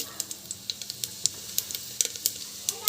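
Mustard and cumin seeds sizzle in hot oil, a soft steady hiss broken by frequent sharp pops and crackles at an irregular rhythm, close up.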